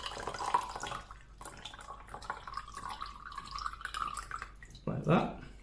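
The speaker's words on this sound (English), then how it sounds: "pour that straight into the glass." A non-alcoholic French 75 cocktail is poured into a glass, a brief gurgling splash near the end, after a person talks over faint drips.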